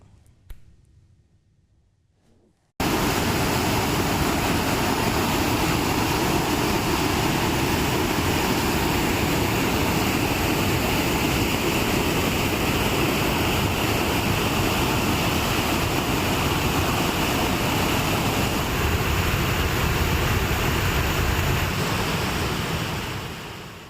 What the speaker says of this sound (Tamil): அருவியில் வெள்ளப்பெருக்கு ஏற்பட்டது